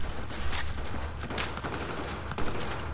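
Bursts of hip-fired gunfire in Battlefield 4, rapid cracking shots spread across a few seconds at moderate level, no voices.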